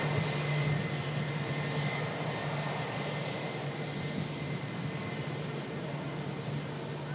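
A Lufthansa airliner arriving at an airport drones steadily in a continuous, moderately loud engine roar under scattered clouds, with no voices over it.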